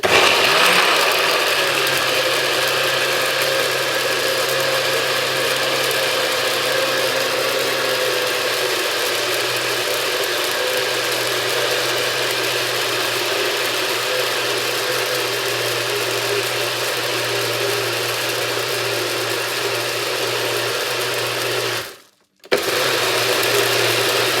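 A blender whirs steadily and loudly for over twenty seconds, blending pomegranate seeds, pineapple, ginger and lemon into juice, then cuts off briefly near the end before restarting.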